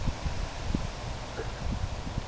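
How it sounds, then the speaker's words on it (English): Outdoor wind buffets the microphone in a steady, dense roar with low rumbling gusts throughout, close and continuous with no pauses. "As soon as I press the one button, the wind comes on."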